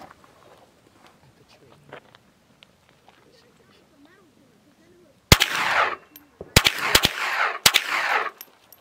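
Suppressed gunshots from a silenced gun fired at bottles, a loud sharp burst of about five or six reports in quick succession near the end, with a stretch of quieter background sound before it.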